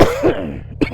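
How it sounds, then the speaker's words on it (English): A man recovering from a cold coughs sharply and close by, a harsh burst followed by a shorter second cough, with no talk around it. "I apologize for the coughing."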